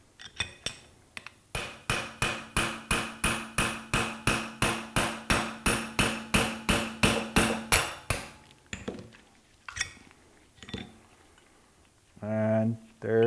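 A brake caliper piston from an Austin-Healey Bugeye Sprite is tapped out with about twenty even, ringing metallic taps in a steady rhythm, close and clear, followed by a few scattered knocks and someone talking at the end.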